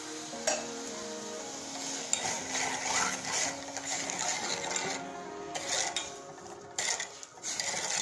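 Spoon stirring sugar in a metal pot while making mabuyu, a busy run of clinks and scrapes against the pot with a faint sizzle beneath, close and irregular, no talking.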